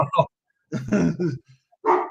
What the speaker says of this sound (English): Oh, my dog. Calm down, Rollo.